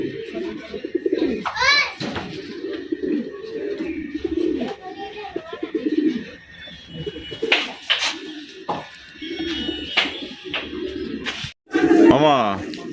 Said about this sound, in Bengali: সুন্দর সুন্দর কিছু সিঙ্গেল কবুতর আছে